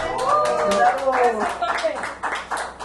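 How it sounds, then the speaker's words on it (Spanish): An audience claps through a brief round of applause at an anniversary ceremony in a hall, with voices and cheers mixed over the clapping. "Aplauso para Saúl"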